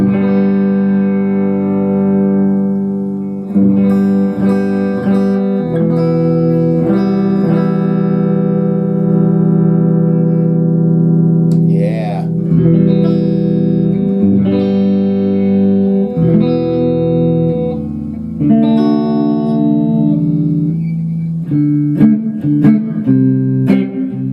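A Harley Benton TE-40 electric guitar plays clean chords and single notes continuously, bright and twangy, ringing and sustained with a glassy, snappy tone.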